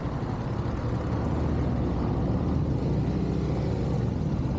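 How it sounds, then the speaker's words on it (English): A motorcycle on a rural road in the UK passes by as a steady, loud engine drone that fills the whole stretch with a low rumble and no pause. "Another motorcycle."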